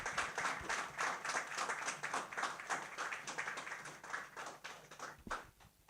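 Audience applause welcoming the female CEO of the Trust Hospital at a healthcare quality event, a sustained dense patter of many hands clapping at steady loudness for several seconds, fading slightly near the end.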